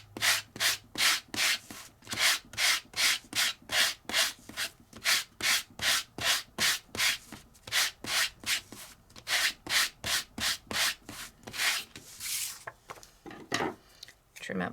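Steady back-and-forth sanding of paper with a Sizzix sanding block in a stamping and stencil craft session, a long run of rhythmic rasping strokes, close and fairly loud, with no talking.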